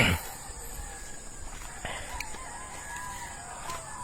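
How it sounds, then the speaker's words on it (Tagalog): Chickens cluck and crow faintly in the distance over a steady outdoor hiss, with a few brief sharp sounds and no talking. "Ang ingay ng mga manok guys."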